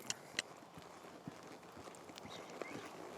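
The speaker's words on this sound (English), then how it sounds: "get the horse walking forward" A horse walks forward, its hooves giving a few soft, irregular clops at moderate distance amid quiet background.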